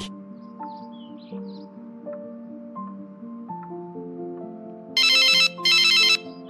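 A telephone rings in two short electronic bursts near the end, following a soft, plinking melody in an animated French Christian film.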